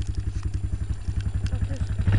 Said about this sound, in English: Watch this. Hit the throttle too hard.